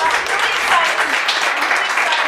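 Audience applause at a talk show, a steady wash of clapping from a studio crowd lasting a couple of seconds.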